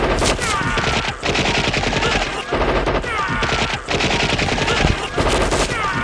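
Rapid machine-gun fire and gunshots from the 80s action film Showdown in Little Tokyo, loud and dense bursts running almost continuously, with brief gaps and possible voices mixed in.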